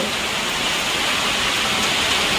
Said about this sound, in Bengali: ভীষণ বৃষ্টি আছে ভীষণ